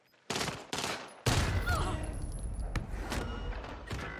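Bursts of rapid gunfire crack out in Call of Duty on Rebirth Island: a couple of short volleys, then a sustained loud burst fading into scattered shots and thuds, with a player's voice briefly heard.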